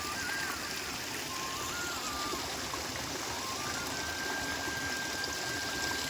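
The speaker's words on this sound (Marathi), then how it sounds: "पाणी वाहत आहे पहाडातून" Steady, continuous rush of a mountain stream flowing down through a valley along the Narmada, an even broadband wash of water that holds constant throughout with no talk.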